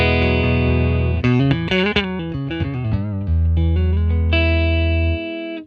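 A Les Paul electric guitar plays a clean, warm tone through a Fender 1957 Tweed Bassman amp model: a held low chord, a quick run of picked notes, then sustained ringing chords, heard alone.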